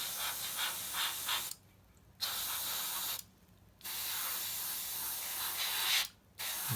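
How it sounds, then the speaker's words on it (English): An airbrush sprays yellow-green paint onto a Tamiya 1/48 scale P-47D Thunderbolt Razorback model, giving a steady close hiss in three long bursts separated by short silent pauses. "me airbrush was struggling a bit now"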